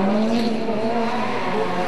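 A rally car spins a 360 at the Monza Rally Masters Show, giving a steady loud engine drone with a tonal whine and tyre noise throughout, close and with no voices.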